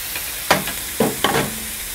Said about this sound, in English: We're gonna let the bacon get nice and crispy